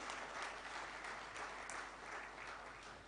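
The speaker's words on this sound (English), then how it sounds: "Can we have a thunderous round of applause for it," An audience at the MSME Steel Conclave 2018 industry conference bursts into sustained applause, a dense, even clapping wash lasting the full few seconds at moderate distance, with no voices standing out.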